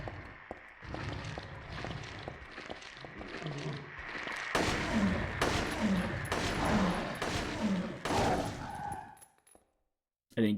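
In the video game Silent Hill 3, a player fires a gun in a run of evenly spaced, sharp shots. A voice is heard earlier, and the shots stop abruptly near the end.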